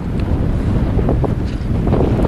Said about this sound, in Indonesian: Anginnya kenceng.